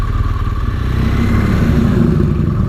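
BMW R1200GS motorcycle riding a road in Wales, a close, steady engine drone with road and wind noise running throughout and no speech.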